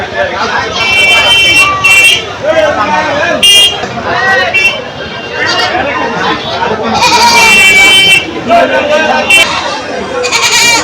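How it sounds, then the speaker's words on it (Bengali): Goats bleat loudly and repeatedly at a crowded Eid cattle market, their cries overlapping a busy hubbub of voices and someone talking nearby. "যে আমার সামনে দুটো ছাগল দেখছেন"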